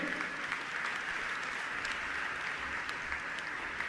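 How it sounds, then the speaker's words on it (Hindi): A religious gathering's audience applauds in a steady, moderately distant patter with no pause throughout. "आपकी तालियों की आवाज पर्याप्त नहीं है बंधु"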